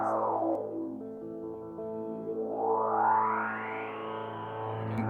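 Synth tone run through an Endorphin.es Golden Master pedal in EQ mode as the low end is cut, a sustained harmonic-rich drone whose brightness sweeps down and then back up, with no talking.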